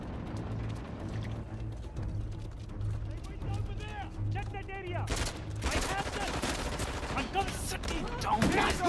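Gunfire from the video game Uncharted: The Lost Legacy, a burst of rapid shots that grows louder toward the end, layered over in-game background noise and a low steady hum.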